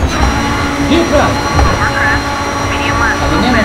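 A racing car engine with damage in the DIRT 3 video game, played on a Logitech G27 wheel, whines and drones steadily at close range while a person talks over it.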